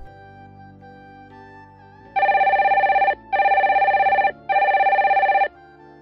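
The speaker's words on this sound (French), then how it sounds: "J'entends le téléphone qui sonne." A telephone rings in three long electronic bursts separated by short gaps, loud and clear over a faint low background.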